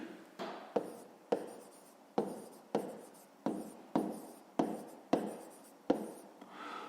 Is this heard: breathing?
no